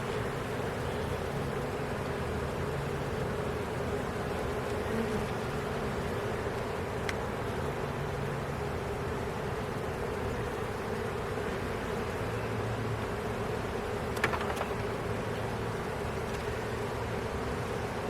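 Honey bees in an outdoor bee yard, a steady, dense buzzing drone that holds without pause, with only faint occasional ticks over it.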